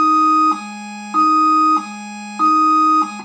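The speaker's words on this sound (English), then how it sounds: "Dual tone is next." Police Interceptor Utility siren on the dual-tone setting, alternating between a high and a low pitched tone roughly every half second, loud, close and continuous with no voices.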